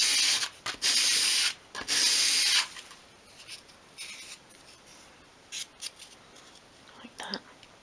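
Sandpaper rubs a bevel onto a small piece of wood in short, raspy strokes: a few loud, close scrubbing bursts at first, then quieter, scattered scratches.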